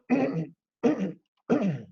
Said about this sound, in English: clearing my throat here